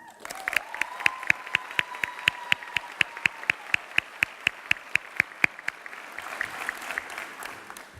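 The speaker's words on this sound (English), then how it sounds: "that deserves a round of applause" An audience at a high school commencement ceremony claps for the graduates, with sharp, evenly spaced handclaps ringing through a hall, steady and fairly loud before thinning out toward the end.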